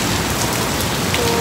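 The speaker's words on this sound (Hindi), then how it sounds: "और आज भी बारिश हो रही" Heavy rain falls hard and steadily close to the microphone, a loud unbroken wash of patter and splashes with no voices over it.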